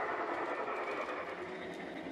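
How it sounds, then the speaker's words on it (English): Model trains run on a layout track, including a Norfolk Southern First Responders train and a Santa Fe GE diesel pulling freight cars, giving a steady, continuous rolling rumble and hum without pause. "also running one of my newest trains, the Norfolk Southern First Responders train"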